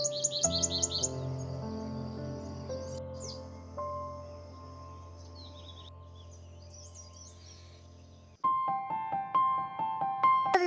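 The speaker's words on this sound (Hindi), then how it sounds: "हमारे घर के सामने वाले स्थान में बहुत सारी घुगती चिड़िया बैठी हुई है" Spotted doves call from nearby in a calm outdoor setting, soft cooing mixed with chirps and tweets, with a steady low hum underneath throughout.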